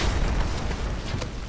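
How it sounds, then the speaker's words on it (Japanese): A big explosion in the video game Final Fantasy VII Remake: a dense, sustained roaring blast of rumble and noise, loud and close throughout the short clip. "爆発が派手すぎねえか。"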